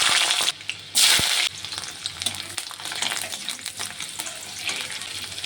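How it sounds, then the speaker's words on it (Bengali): Whole garlic cloves dropped into hot mustard oil for a shrimp and taro-leaf bharta, with a loud sizzling burst as they hit the pan, then a steady close crackle and spatter. "কয়েকটি গোটা রসুন ভেজে নেব।"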